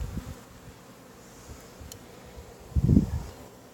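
Honeybees buzz around an open hive during a first inspection: a low, steady hum with a louder, closer burst of wingbeats near the end, and no voices.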